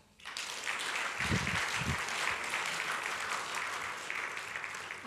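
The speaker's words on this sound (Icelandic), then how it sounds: "Ef ekki að gefa þeim gott klapp." A church congregation breaks into loud, sustained applause that starts abruptly and holds steady, with a couple of brief low thumps near the start.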